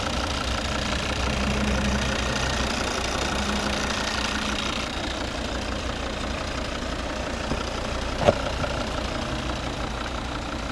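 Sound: car diesel engine running

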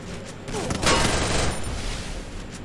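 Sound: MP40 submachine gun firing in Free Fire video game

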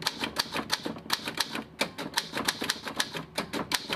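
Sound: typewriter typing lyrics in teaser video

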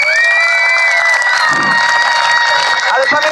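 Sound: circus show audience applauding and cheering

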